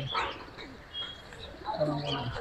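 Pigeons coo in low, throaty bursts at a crowded bird market at Meradia Haat, close by, while people talk and haggle over them.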